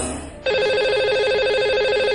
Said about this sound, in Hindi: तो लगाते हैं इन्हें कॉल।